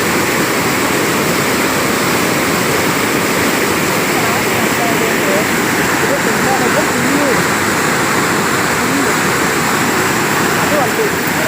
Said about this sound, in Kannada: ಹಿನ್ನೀರಿದು ಹೆಂಗೆ ಚಿಮ್ತಾ ಇದೆ, ಸೌಂಡ್ಸ್ ಕೇಳ್ಕೊಳ್ಳಿ.